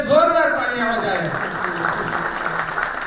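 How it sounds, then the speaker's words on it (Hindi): An audience at a Bangalore event applauds loudly as a speaker finishes speaking; a voice is heard at the start, then steady clapping continues underneath. "इनके लिए जोरदार तालियां हो जाए।"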